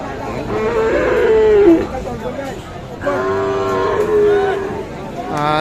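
A bull lows at a busy cattle market, two long drawn-out moos a little over a second apart, loud and close over a murmur of crowd chatter.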